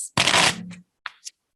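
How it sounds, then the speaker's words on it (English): A deck of playing cards being shuffled: one quick riffling burst of rapid flicking, then a couple of short soft taps as the cards settle, close up. "it's just like very satisfying to shuffle a deck of cards"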